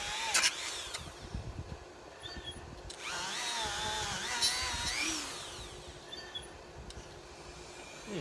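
A Dremel rotary tool with a wire brush attachment whines at a fairly low, distant-sounding level while working on a riding mower, rising into a steady buzzing pass in the middle, with scattered clicks and clatter before and after.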